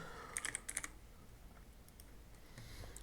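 Computer keyboard typing comes through as a quick cluster of faint, crisp key clicks early on, followed by a few scattered taps later in a quiet room.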